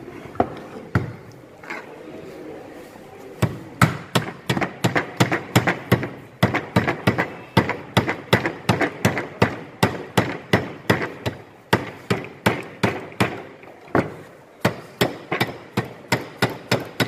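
Repeated hammer blows knocking the wheel out of a lathe tailstock during maintenance: loud, sharp metallic strikes in a steady, fairly quick rhythm, with a few short pauses between runs of hits.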